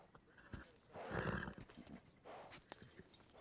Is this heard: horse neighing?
yes